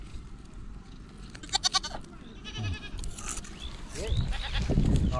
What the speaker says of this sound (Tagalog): nakabili tayo ng kambing